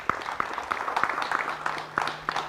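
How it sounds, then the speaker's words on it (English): Scattered, rhythmic applause from an audience at a K9s For Warriors service dog graduation honoring 70 service dogs; sharp individual claps land roughly three times a second over a low steady hum. "Give them a round of applause"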